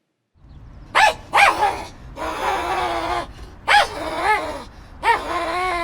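A dog barks several times close by, sharp barks in short bursts separated by brief pauses, with some whiny, drawn-out yelps.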